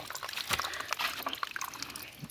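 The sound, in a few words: water pouring from a water supply outlet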